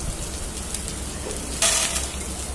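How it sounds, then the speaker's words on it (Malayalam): A small piece of ginger sautés in a pan with a steady oily sizzle. A brief louder hiss bursts up partway through, probably from stirring, and no one talks. "ഒരു പീസ് ഇഞ്ചി, ചെറിയൊരു കഷ്ണം മതി, ഇഞ്ചി ഇട്ട് കൊടുത്ത് ഇത് നല്ലതുപോലെ ഒന്ന് വഴറ്റി കഴിഞ്ഞ്"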